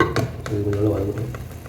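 Ingredients for Dindigul mutton biryani soften in a pan, with a soft sizzle and a few scraping stirs, close and moderately loud, as a voice talks over the cooking.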